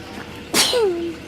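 A single sharp sneeze bursts out, close and loud, followed by a brief high voiced trailing whine as it fades.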